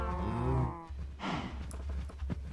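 Cows in the Minecraft video game give a pair of low, drawn-out moos close by, with a short pause between the calls and faint game noise after them.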